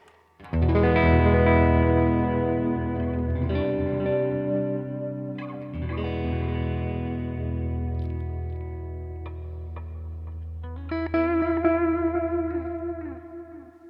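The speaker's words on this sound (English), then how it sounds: "I'll just put loads more reverb and delay" Sustained electric guitar chords through a Boss Nextone amp ring out washed in heavy reverb and echoing delay, notes smearing and trailing into one another.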